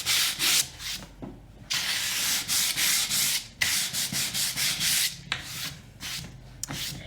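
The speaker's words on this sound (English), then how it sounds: "I'm gonna give it a little bit harder sand." Sandpaper is rubbed hard back and forth over a painted wood sign in rapid, uneven bursts of coarse scratchy friction, close and with short pauses between strokes.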